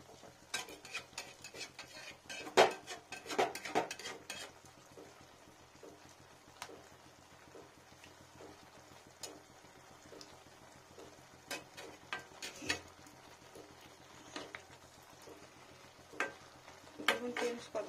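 A spoon stirs fenugreek leaves with fried potato and brinjal in a pan, quiet intermittent scrapes and clicks against the metal over a faint low sizzle, with no talking.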